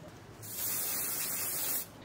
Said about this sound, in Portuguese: Spray de fixação, soltei aqui